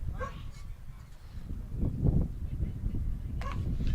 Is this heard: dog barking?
yes